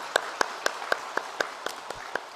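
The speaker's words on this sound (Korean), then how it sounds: "우리 박수로 한번 감사하지요" A church congregation claps in a steady, even rhythm, about nine distinct claps at a quick regular pace, fairly quiet and with no talking over them.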